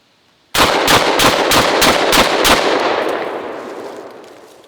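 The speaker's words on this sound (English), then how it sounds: "it cycled all 7 rounds of number 8 birdshot just fine with the stock OEM spring that came with the gun" A Panzer Arms Benelli M4 clone semi-automatic shotgun fires seven rapid birdshot rounds in an even, fast string of loud blasts, followed by a long echoing decay with no talking.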